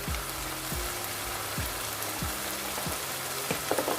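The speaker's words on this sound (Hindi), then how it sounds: "इसको हम तकरीबन 2 मिनट तक अच्छे से भूनेंगे ताकि जो है मसाला वो अच्छे से" Kaleji (liver) frying with masala in a pan: a steady close sizzle with crackling throughout, with a few louder pops near the end and no talking.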